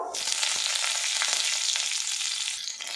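Green chili pieces frying in hot white oil with nigella seeds, a loud, steady, close sizzle that fills the whole moment on its own.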